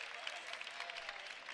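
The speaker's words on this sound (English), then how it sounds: "As you can hear the Fiji crowd going crazy into this microphone." Fiji fraternity crowd at a large frat championship basketball game against ATO, a faint, distant wash of cheering and clapping that stays steady throughout, with no voice standing out.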